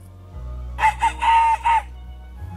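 A man imitates a rooster's crow with his voice, giving a loud, close, broken cock-a-doodle-doo in four tonal bursts over a low steady background hum.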